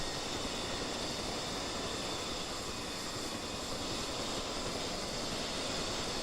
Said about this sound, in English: We hear the helicopter right there.